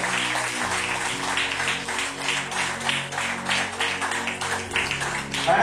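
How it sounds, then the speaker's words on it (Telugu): A church congregation claps loudly to welcome a pastor, a dense, steady patter of many hands sustained throughout, with a voice faintly under it. "గట్టిగా ఏంటి చప్పట్లు."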